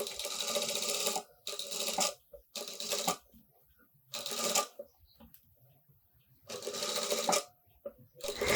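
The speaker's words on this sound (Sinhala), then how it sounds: "මෙන්න මේ විදිහට මහන්න." Domestic sewing machine with a zipper foot runs in several bursts, stitching bias tape onto fabric for a front zipper opening, with short pauses between runs, close and fairly loud.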